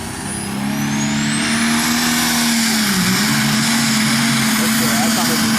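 A pulling truck's engine at a county truck and tractor pull roars loud and steady, its revs climbing and holding with a brief dip in pitch midway, with crowd noise and voices mixed underneath.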